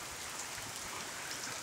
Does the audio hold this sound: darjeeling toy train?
no